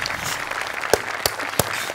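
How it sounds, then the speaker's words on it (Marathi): An audience at a Marathi comedy show claps for an award, a soft spread of applause with a few sharper, louder claps standing out near the end. "हो, पुरस्कार जोरदार टाळ्या."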